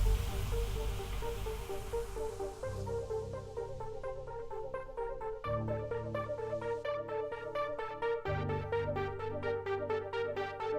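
Rapid repeating electronic synth arpeggios stack in several layers over a swelling noisy wash, with the bass shifting pitch every few seconds, steady and continuous.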